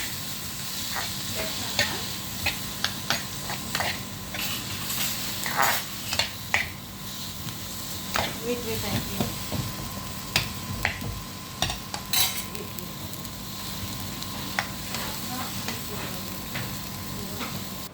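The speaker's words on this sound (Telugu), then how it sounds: "టమాటా ముక్కలు వేసింది. ఫ్రై చేసుకోవాలి మొత్తం మిక్స్ చేసుకొని." Tomato pieces stir-fry with vegetables in a pan for egg and vegetable Maggi noodles, a soft constant sizzle under repeated clinks and scrapes of a utensil against the pan, close up, with no voices.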